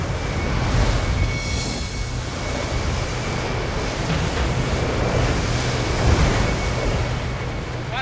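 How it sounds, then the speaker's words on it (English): Storm wind over 100 knots blowing across a harbor where boats are moored near rocks, a constant loud roar mixed with crashing surf and buffeting microphone gusts, with no letup. "The wind kicks up over 100 knots."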